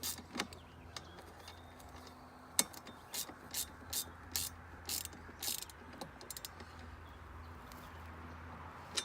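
Tightening bolts on a kids' 800-watt electric ATV with number 10 and 12 wrenches, a run of rapid metallic ratcheting clicks in short bursts, close and fairly clear, with no talk.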